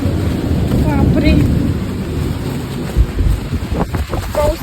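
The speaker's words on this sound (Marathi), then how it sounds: "पाऊस यायला लागलाय जोरात आहे" Heavy rain and gusting wind batter a house during a cyclone, a loud roaring wash with buffeting thumps on the microphone and a few faint tones.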